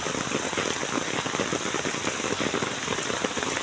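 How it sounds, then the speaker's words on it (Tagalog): Heavy rain pours down in a dense, unbroken hiss of drops drumming on surfaces, loud and steady throughout with no pauses. "Napakalakas ng ulan."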